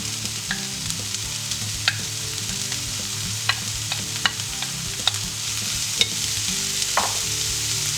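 Mushrooms added to garlic frying in a pan, giving a steady sizzle throughout with occasional sharp clicks of stirring against the pan.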